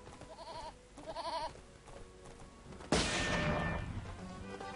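Goat bleats twice in the Lego Lord of the Rings video game, short wavering calls amid game background sound, followed by a sudden loud burst of noise that continues to the end.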